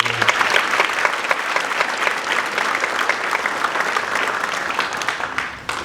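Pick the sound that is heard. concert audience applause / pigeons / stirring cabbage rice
concert audience applause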